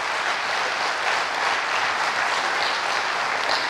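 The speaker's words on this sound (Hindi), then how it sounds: "अपने लिए ताली बजा लो।" An audience at a spiritual talk claps for itself, giving continuous, dense applause from a large crowd at an even, fairly loud level from start to end, with no voices over it.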